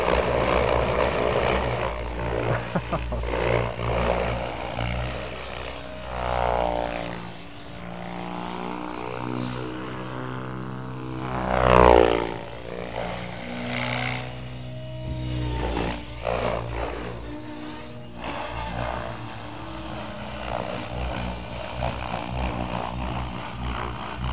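An OMP Hobby M7 RC helicopter whines and revs in flight with a droning, rotor-like buzz, pitch rising sharply near the middle before settling back to a steady hum.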